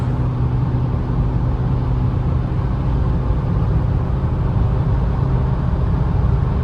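Steady, loud cabin drone of a Dacia Logan sedan 1.6 16V cruising at about 140 km/h, with continuous engine hum and road and wind roar, no voices.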